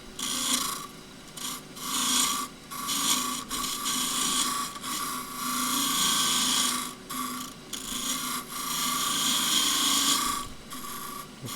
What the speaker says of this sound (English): I'm going to use the corner of the skew just to drift that in